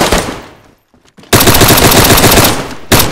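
Automatic gunfire from the survival video game DayZ, loud, dense bursts of rapid shots, a short burst, a brief pause, then a long sustained volley and a final burst.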